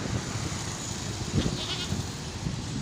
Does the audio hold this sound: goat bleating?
yes